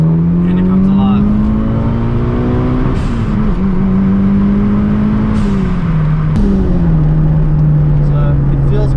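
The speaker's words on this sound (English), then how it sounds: "Like, this is second gear right now, flat foot. And it comes alive." A Mitsubishi Evo's turbocharged 4G63T engine pulls hard in second gear at full throttle, a loud rising drone that climbs steadily in pitch, with brief dips at shifts and a person talking over it.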